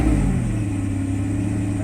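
Mercedes S600 engine idling on a cold start after throttle and e-gas repair, a loud steady low rumble with prominent exhaust drone, unbroken and close.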